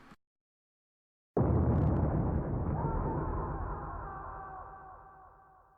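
A distant explosion sound effect from a zombie video game map mod starts after a second of silence with a sudden heavy boom. A long rumbling tail follows and slowly fades out over several seconds.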